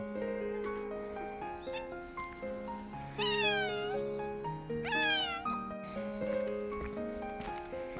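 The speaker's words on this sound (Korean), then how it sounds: "자기들 먼저 안 준다고 계속 야옹거립니다" Two distinct meows from stray cats waiting for food rise and fall, the second shortly after the first, heard over soft background music.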